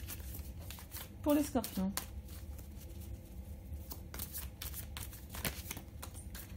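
Tarot cards are shuffled with soft riffling and papery flicks close by, while someone speaks French over them.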